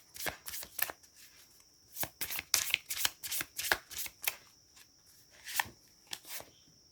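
Tarot cards being shuffled by hand, a series of crisp riffling bursts and soft slaps in irregular clusters, close and fairly quiet, with no talking.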